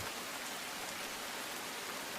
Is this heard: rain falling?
yes